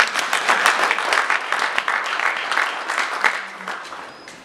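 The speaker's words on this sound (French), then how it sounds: "Ils ont raté leur TGV. On les applaudit quand même." Applause from a conference audience at an international meeting of political supporters, dense steady clapping of many hands that fades slightly toward the end.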